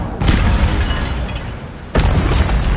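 The Incendio fire spell erupts in a game in two loud, booming whooshes, each a sudden burst that rumbles on with a deep roar for a moment, close and full.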